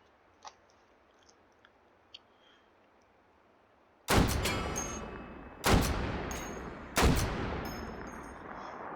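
A Barrett M107/M82 .50 BMG rifle in the H3VR virtual reality game fires three massive, booming shots about a second and a half apart, each with a long rolling tail, after a few quiet handling clicks.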